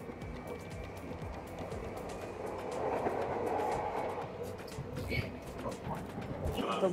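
Rumbling interior of a crowded circular-line commuter train in Japan, a steady loud roar of wheels and carriage noise running throughout, swelling slightly midway, with faint background murmur.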